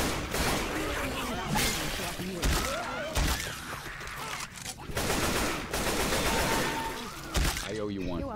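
Dense, rapid gunfire from a Left 4 Dead 2 co-op session with repeated sharp shots and bursts throughout, loud and continuous, with players talking over the shooting.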